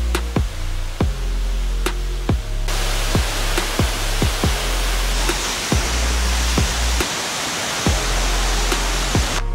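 Rushing water from the Wanzhou Grand Waterfall, a broad, steady roar that stays loud and continuous throughout, with regular low thumps running under it.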